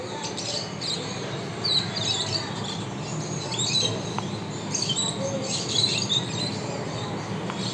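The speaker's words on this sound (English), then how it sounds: "So many birds are there." Many birds, peach-faced lovebirds among them, chirp and tweet in an aviary at the bird park in Nehru Zoological Park, Hyderabad, a steady chorus of small high calls over constant background noise.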